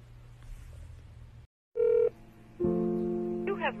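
Telephone dialing tones sound, followed by a short silence and then a ringback tone pulsing on the line, faint and clean with no voices.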